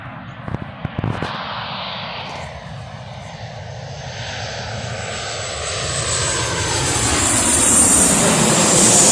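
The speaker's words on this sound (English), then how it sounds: "Is it going to be a 737 or what?" A Ryanair Boeing 737 jet passes overhead, its engine roar swelling steadily from a distant rumble to a loud, close, broadband rush with a rising whine, accompanied by a few faint clicks early on.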